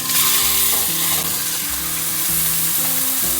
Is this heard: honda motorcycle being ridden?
no